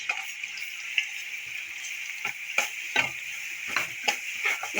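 Garlic paste frying in hot ghee in a pot, a steady bright sizzle broken by repeated scraping stirs of a spoon against the metal, close and without talk.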